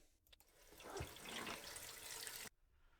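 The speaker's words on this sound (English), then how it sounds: "Got the water running." Water runs steadily from a hose onto a gutter fitted with a gutter cover, a broad continuous rushing splash that starts after a brief pause and cuts off abruptly near the end.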